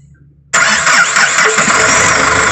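A Mahindra Xylo D2/D4 engine, just repaired for a timing sensor fault, is silent and then catches abruptly, settling at once into a loud, steady running roar close by with no voices over it.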